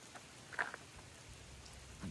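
Rain falls outdoors while someone shelters under a tree, a steady, soft hiss with a few brighter drips and patters nearby, and no voices.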